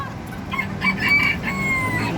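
A bantam rooster crows once, close and loud, with a short strained call over a faint background hum.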